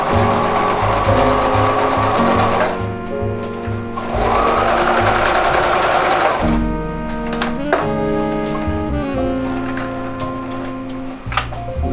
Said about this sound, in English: I can just sew right along that chalk line until I come to this point, and I'm just going to sew right off the edge